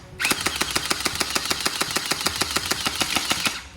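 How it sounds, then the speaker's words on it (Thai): An HK416D gel blaster toy gun fires on full auto, a fast, even burst of about twenty mechanical shots close by, each a sharp clack over a motor whir, running unbroken for over three seconds. "แล้วเราก็ยิงไปเรื่อยๆครับจนกว่ากระสุนเจลจะออกนะครับ"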